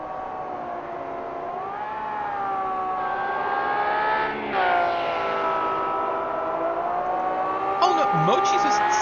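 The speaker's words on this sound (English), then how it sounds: "It's a very mellow kind of engine." Race car engine at a Sepang circuit race, a steady mellow harmonic drone passing nearby with a brief dip mid-way, under background talk.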